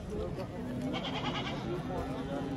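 Goats at a livestock market bleat faintly in short calls under close, continuous talk between buyers and sellers.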